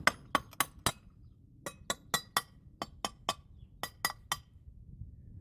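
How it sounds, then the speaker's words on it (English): Metal rings out under sharp hammer blows as a rear leaf spring is driven onto a 1970s Camaro, struck in quick bursts of three or four hits with short pauses, close and clear with no talking. "use a hammer"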